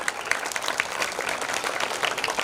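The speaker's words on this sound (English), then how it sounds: "Give a big hand. Clap." Audience at a school welcome and felicitation ceremony applauding, dense sustained clapping from many hands throughout, close and lively with no speech over it.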